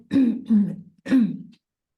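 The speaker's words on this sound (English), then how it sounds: "I've got a cough, wait a moment." Three quick, rough coughs in succession, close and loud, followed by silence.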